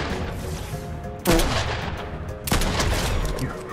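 Two loud shotgun blasts boom in a Fortnite match, about a second apart, each with a sharp attack and lingering tail over steady game background noise.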